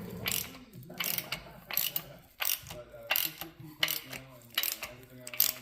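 An oiled engine rebuilt with new bearings and pushrods, piston rings removed, is turned over by hand. It gives a close, repeated mechanical ratcheting and clicking in about six even cycles, with no talk.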